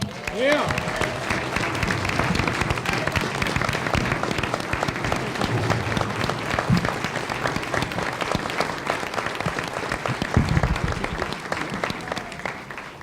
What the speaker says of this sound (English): Please give her applause